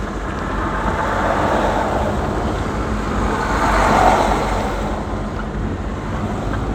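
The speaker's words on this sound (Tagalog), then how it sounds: "Lalaking truck pala eh." A large truck rumbles past on a dirt road at a quarry site in Sta. Cruz, Zambales, a steady broadband roar swelling to a peak midway and fading, with wind noise throughout.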